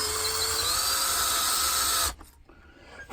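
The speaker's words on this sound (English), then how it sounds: "And you just gently drill in." A drill bit whines loudly and continuously at high pitch drilling into a 1966 Pontiac GTO wheel, then stops abruptly, leaving a quiet pause before a faint restart.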